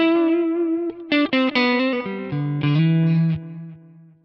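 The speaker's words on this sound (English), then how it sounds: "you can hear that the echoes are much darker" Electric guitar played through a delay on a Quad Cortex modeler with the echo treble rolled off, so the repeats sound dark and muffled. The sustained notes and chords with distortion-like tone trail off, alone with no talk.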